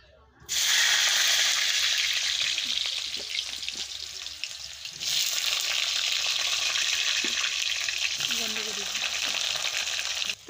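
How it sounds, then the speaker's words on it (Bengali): Potatoes frying in hot oil, a loud, steady close-up sizzle that starts abruptly, dips briefly midway, then resumes with occasional stirring clatter. "এখন আমি আলুটা ভেজে নিব"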